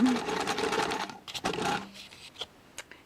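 A sewing machine back stitches the seam of a frilly baby top, a close, steady mechanical whirr for about a second before it slows and stops, followed by a few soft handling clicks.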